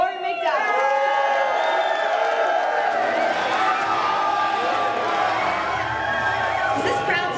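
A large arena crowd at UFC 189 roars and cheers in a sustained, loud wall of voices, with whoops rising above the din after a brief quieter start.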